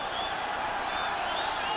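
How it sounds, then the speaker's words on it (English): Boxing crowd at the Julio Cesar Chavez vs Roger Mayweather rematch roaring steadily in a dense, continuous wash of cheering that swells slightly, heard from within the arena. "Crowd picks up again as Chavez continues to step inside."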